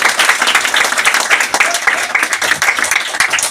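An audience at a motivational lifestyle seminar claps loudly and continuously, a dense close crowd of hands sustained throughout with no break.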